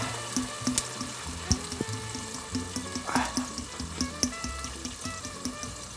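Seawater runs from a tap while a pot is rinsed in a sink, a steady close splashing flow with repeated clinks and knocks of the pot against the basin throughout.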